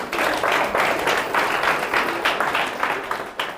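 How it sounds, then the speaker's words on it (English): At a senior school CSR event, an audience bursts into lively applause, a dense crackle of many hands clapping close and loud, easing slightly toward the end. "can you clap for him?"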